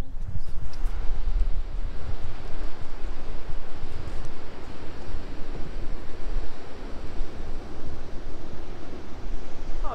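Ocean waves at Jeffreys Bay, South Africa, wash and roar continuously, mixed with gusts of wind against the microphone, with no voices heard.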